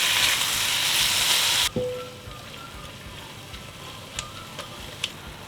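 Minced meat frying in oil in a pot sizzles loudly at first, then drops to a quieter crackle with a few spoon clicks and scrapes as it is stirred, Lebanese chestnut rice in progress.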